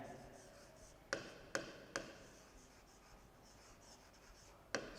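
Chalk writing on a board during a Class 10 trigonometry lesson: a few sharp, separate taps and strokes over a quiet room, with faint hiss between them.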